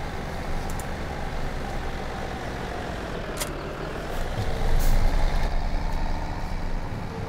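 A heavy trailer hauled behind a farm vehicle in Farming Simulator 2017: a steady, loud, close engine drone with broadband road rumble that swells slightly partway through. No talking.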